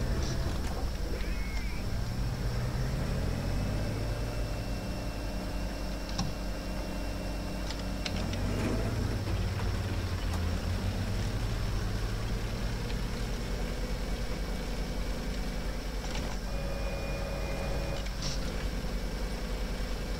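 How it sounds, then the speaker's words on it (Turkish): A steady low tank engine drone in the video game War Thunder rumbles throughout, with occasional faint mechanical clanks and thin tonal whines layered above it. "Tankın motor sesi değişmiş."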